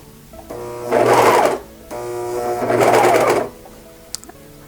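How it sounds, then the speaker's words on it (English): A sewing machine runs a blind hem on a knit Arlington sweater in two loud, close bursts of rapid stitching, separated by short pauses, with a small click near the end. "kind of just pull it a little bit back as you're sewing"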